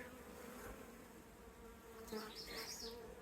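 Honeybees around a hive during a colony check: a steady, close insect buzz holds throughout, with individual bees briefly droning louder as they pass near.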